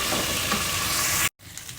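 Potatoes sizzle loudly in hot oil and spice masala in a pan, a dense steady frying hiss that cuts out abruptly for a moment before resuming more quietly.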